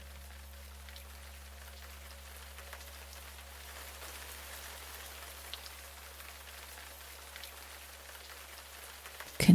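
Steady rain falls softly and continuously under a low background hum, a faint even patter of drops through a quiet, meditative scene, ending in a brief louder knock.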